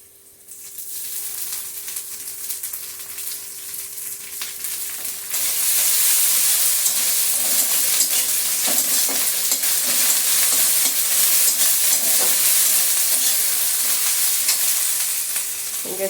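Ginger-garlic paste and green chili paste sizzle and fry in a pan, a steady crackling hiss with stirring scrapes that grows louder and denser partway through and carries on continuously, with no voices.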